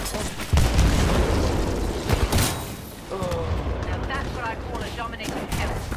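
Gunfire and explosions in Titanfall 2 online multiplayer, with dense bursts of shots and booming impacts over a constant rumble of game sound, loud and close, broken by brief mechanical clanks.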